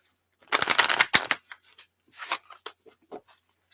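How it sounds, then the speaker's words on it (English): Tarot cards being shuffled close by, a dense riffling burst of rapid snaps at first, then lighter scattered flicks and slides of cards settling. "I'll just shuffle because I was directed to pull a second card."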